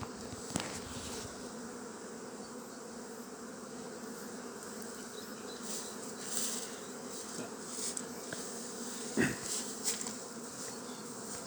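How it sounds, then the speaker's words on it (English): Honey bees swarm around an opened beehive, a steady close buzzing drone with occasional louder passes of individual bees, and no voices heard. "Now we run our hives as single brood boxes through the summer."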